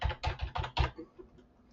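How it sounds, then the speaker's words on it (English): Five quick keystrokes on a computer keyboard, entering a phone number into a CRM dialer, then a few faint softer taps trailing off in a quiet room. "there's the option of just typing in the number manually."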